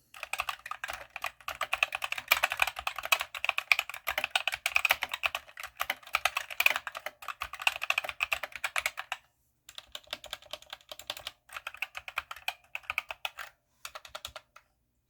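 Fast, steady typing on an Asceny GK61 hot-swappable mechanical keyboard with black switches, dense clacking keystrokes close up, with a brief pause before more bursts of typing.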